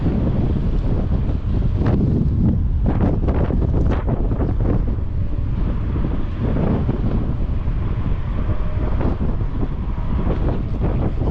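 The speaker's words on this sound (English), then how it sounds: "Definitely a windy day today" Strong wind on an early spring fishing outing buffets the microphone in a constant roar, gusting harder at moments, with no voices.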